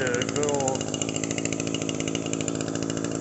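Gas-powered weed whacker engine running close by with a loud, steady buzzing drone, while someone speaks over it near the start.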